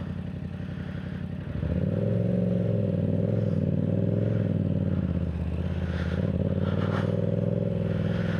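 Motorcycle engine idling, then revving up loudly after a sharp rise in throttle, holding a rough, steady drone with clattering mechanical noise close by and no talk.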